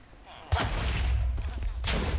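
Explosions from the Minecraft video game, heard as two sharp booming blasts, one near the start and another toward the end, with crackling rumble in between.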